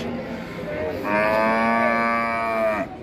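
A single cow at a cattle market gives one long, loud, close moo that rises in pitch midway and then cuts off, with no speech over it.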